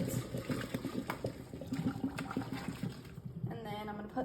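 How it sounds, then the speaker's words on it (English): Hot cooked noodles and water pour into a strainer with an uneven, splashy gurgling rush, close by, with a voice briefly heard near the end. "I'm going to take the bowl of noodles and just pour them straight into the strainer."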